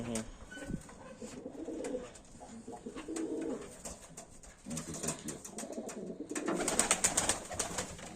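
Broad-tailed fighting pigeons coo repeatedly close by, low throaty calls rising and falling, with rustling and other background noise, growing busier toward the end.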